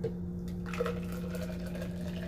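Juice is poured back into a container, giving a steady liquid rush and trickle for a couple of seconds over a constant low electrical hum.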